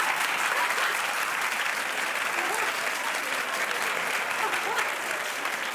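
Steady, dense audience clapping fills the room at a constant level for the whole stretch, with no voices breaking through.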